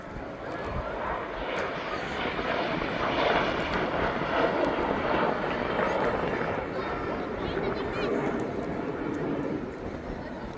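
RAF Red Arrows jets fly a close formation display at an Armed Forces Day airshow in Newtownards, making a continuous broad engine roar that stays loud and steady throughout. A commentator talks over the noise.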